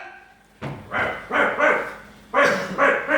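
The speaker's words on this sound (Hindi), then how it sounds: "ये कुत्ता इतना क्यों भौंक रहा है?" Dog barking loudly and close, about six sharp barks in an uneven rhythm with short gaps between them, and nobody talking.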